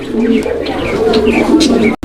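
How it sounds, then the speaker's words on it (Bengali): A male pigeon coos loudly and close in a pigeon market, its rolling, repeated coos running continuously for about two seconds, with other birds chirping faintly behind. "নরের ডাকটা দেখেন কত সুন্দরভাবে ডাকে"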